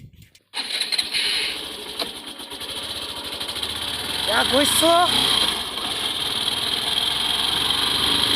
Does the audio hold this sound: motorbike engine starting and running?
yes